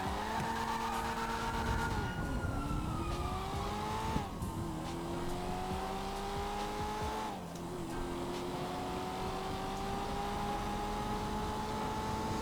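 A car, a Coquette, accelerates hard from a red light with a loud, close engine that climbs in pitch through the gears and drops briefly at each shift, steady and without talk.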